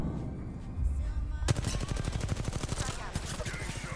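Rapid automatic gunfire rattles in a video game, a sharp shot followed by sustained bursts of fast repeated shots that continue to the end, loud and close.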